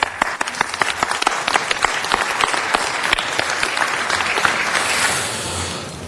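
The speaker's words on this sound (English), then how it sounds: "Please give him a round of applause." Applause for Governor Kim Tae-ho at a city council meeting, a dense, sustained round of clapping that holds steady for several seconds before easing off.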